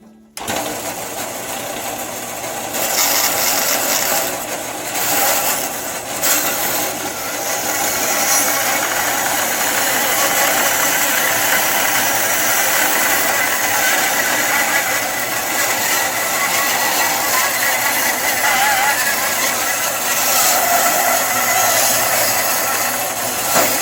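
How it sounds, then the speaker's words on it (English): A bandsaw cuts a wooden log in two for a natural edge bowl, a steady loud mechanical whir and rasp that holds for over twenty seconds after starting up, with no talking. "We're here at the bandsaw, and we're going to cut this log in 2."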